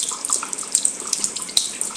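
Tap water runs steadily over a makeup brush held bristles-down in a sink, a close, continuous hiss and splash with small spattering bursts as the brush is rinsed.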